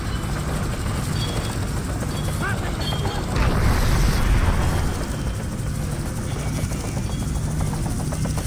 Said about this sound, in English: Oh great, it's helicopters again.